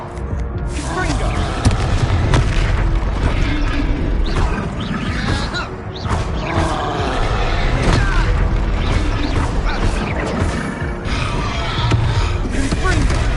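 Repeated Confringo fire spells blasting in a Hogwarts wizarding video game, a dense, loud run of booms and crackling bursts over constant background noise, with a voice calling out spells between impacts.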